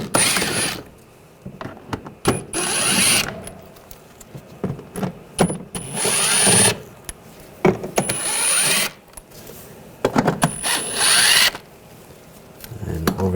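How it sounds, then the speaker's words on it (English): A power tool fitted with a T25 socket backs screws out of the inner fender well on a 2009-2017 Volkswagen Tiguan, several loud whirring bursts of a few seconds each, separated by pauses filled with clinks and handling noise. "We're going to use a T25 socket and take some of these screws out."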